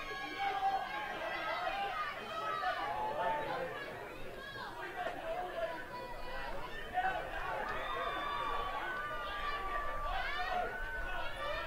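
Crowd chatter and shouting from spectators at a Minnesota amateur state tournament baseball game, a steady busy babble of many voices heckling a batter, moderately distant and continuous throughout.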